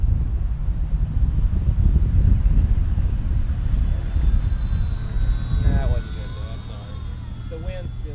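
An Arrows RC Bearcat 1100mm model airplane on a 3-cell battery buzzes overhead in strong gusty wind, its whining motor rising and fading as it passes, with heavy wind rumble and people talking.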